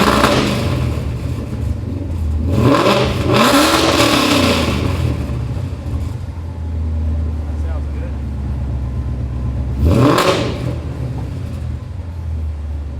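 Ford Mustang GT (2011–2014) race car fitted with an MBRP aluminized 3-inch street cat-back exhaust, revving in loud bursts near the start and again later over a steady deep idle rumble.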